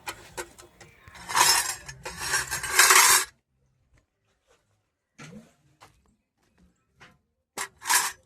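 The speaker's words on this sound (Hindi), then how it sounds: "इधर बाउंड्री में जितने भी बर्तन हैं इन सभी को धो के एक जगह किया जा रहा है" Dishes and utensils are washed and stacked outdoors. A few seconds of scrubbing and clattering are followed by quieter, scattered clinks and knocks with pauses, then a final brief burst of rattling.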